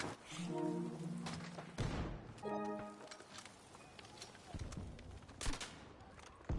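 Vehicle-mounted gun in Battlefield 6 firing in rapid bursts of gunfire mixed with thumps and impacts, moderately loud amid a busy online battle with a voice talking over parts of it.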